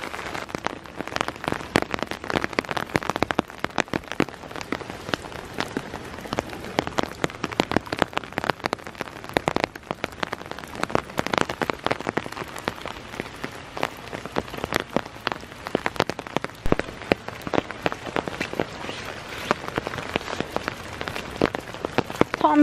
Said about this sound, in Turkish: Bayağı yağmur yağıyor şu an.